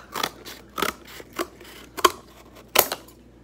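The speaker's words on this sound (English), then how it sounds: "now I have four pieces of cardboard, and now I'm going to cut kind of like a cone" Scissors snip through cardboard in five or six separate crisp cuts spaced irregularly, shaping a cone for a grade-school volcano model; close and fairly quiet with no talking.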